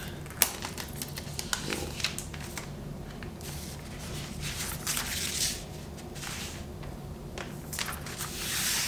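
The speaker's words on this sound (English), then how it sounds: "let's get to unwrapping the laptop" A Surface Laptop Go being unwrapped from its protective wrapper, with soft crinkling, rustling and scattered handling taps, close and fairly quiet throughout.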